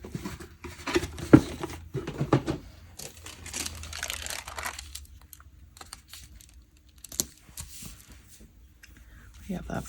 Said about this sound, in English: Let me grab a wax paper.